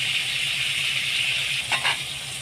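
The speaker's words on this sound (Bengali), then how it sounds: "তেলটা গরম হয়ে গেছে, এবারে মাছের মাথাগুলো ভেজে নেব।" Fish heads fry in hot oil with turmeric, giving a constant dense sizzling hiss, close and steady, with a brief scraping rattle near the end.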